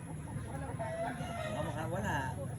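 A rooster crows in a wavering, drawn-out call amid clucking fowl at a farm, moderately close, with low background chatter and noise around it.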